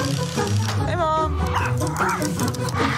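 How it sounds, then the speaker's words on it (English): Dog-like barks and panting voiced by an animated dragon in the Pixar Onward teaser, heard over a busy bed of background music and sound effects. "why does this dragon bark and pant like a dog?"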